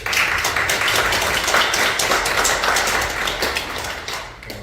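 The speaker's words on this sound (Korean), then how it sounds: "우리 감사의 박수를 드렸습니다" A church congregation applauds during a Sunday worship service, a dense, steady wash of many hands clapping at close range for the whole stretch, easing slightly at the very end.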